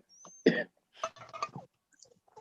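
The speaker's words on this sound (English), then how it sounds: "That's my smoker's cough." A harsh, raspy smoker's cough burst up close, followed by a few rough throat-clearing coughs, then quiet breathy sounds.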